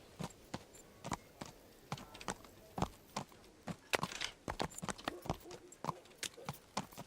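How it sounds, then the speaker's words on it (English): In the video game Kingdom Come: Deliverance, a horse's hooves clip-clop in a steady walking rhythm, close and crisp, with no talk over them. "Oh, Lena, this must be my horse. Let's go, my horse."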